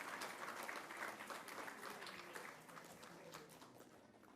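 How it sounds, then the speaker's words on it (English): A crowd applauds award winners at a radio awards ceremony, a continuous wash of clapping heard from a distance and fairly faint, easing slightly toward the end. "Let's give a huge round of applause to all the winners."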